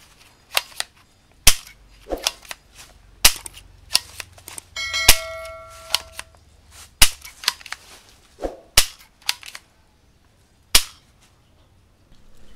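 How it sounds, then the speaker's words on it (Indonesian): Toy shotgun styled after Captain America firing, a series of sharp close cap-gun-like pops and snaps at irregular intervals, with a brief electronic tone partway through. "Shotgun, Captain America."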